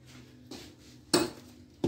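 A metal fork being taken out while baking homemade mille-feuille, with a few sharp cutlery clinks and clatters, close and distinct against a quiet kitchen.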